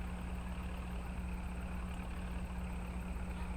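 A tractor engine strains under load in a farming survival video game set in the western wilds, a steady low droning hum with a constant tonal whine, even and unbroken throughout with no voices.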